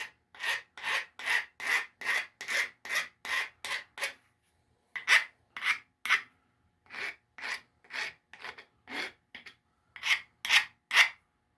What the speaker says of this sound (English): I just get the little burrs off it real quick.